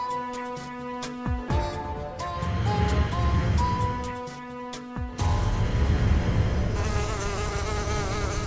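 Robotic mosquitoes in a children's TV comedy buzz loudly and continuously, a dense insect-like whine with shifting tones and abrupt changes, close and without any speech.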